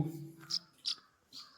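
A few short, high chirps from a pigeon chick, spaced apart and fairly faint, with soft low murmuring at the start.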